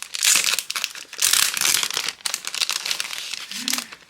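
Plastic packaging on a purchased K-pop album item crackles and crinkles as it is torn open, loud and close, in bursts with short pauses.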